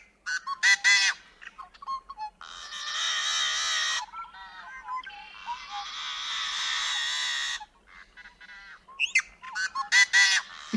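A recorded marsh bird gives snarling, squealing robotic calls in bursts, with a long harsh buzzy stretch in the middle and quick chattering notes at the start and end, clear and close.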